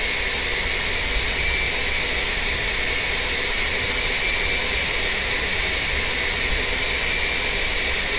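Steady broadband jet engine roar of an aircraft flying in the game Kerbal Space Program, a continuous even drone with whining high tones, loud and unchanging throughout, with no talking.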